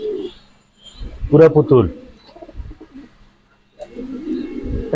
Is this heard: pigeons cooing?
yes